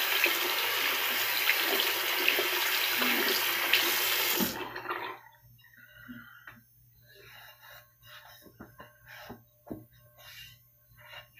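Tap water runs loudly and steadily from a faucet, rinsing a sharpening stone at a sink, then cuts off abruptly partway through, leaving quieter scattered clinks, drips and handling sounds.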